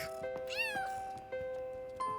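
A cartoon kitten gives a few short meows, one rising and falling in a drawn-out whine, heard clearly over a quiet background.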